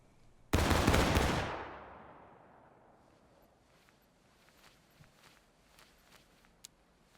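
A massed musket volley in the War of Rights game crashes out as one loud, dense burst, then rolls away in a long fading echo, with faint scattered distant shots afterward.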